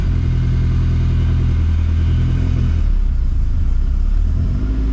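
A modified 2006 Subaru STI with a twin-disc clutch runs loud and close, its engine revving hard with a lumpy rumble, easing briefly near the three-second mark before climbing again.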